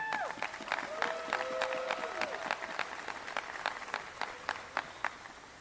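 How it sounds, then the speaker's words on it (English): An audience gives a big round of applause for the Providence College basketball team at a key-to-the-city ceremony, dense clapping with sharp individual claps standing out, and a brief tonal sweep early on. "can we have a big round of applause for PC basketball?"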